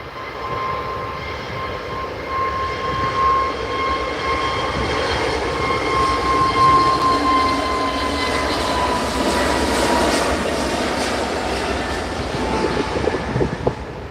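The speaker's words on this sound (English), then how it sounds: "Jet2, Airbus A321neo, off to Rhodes" A Jet2 Airbus A321neo jet takes off from Manchester Airport, a broad sustained roar with a faint whine that builds and holds steady, heard from a distance without talk.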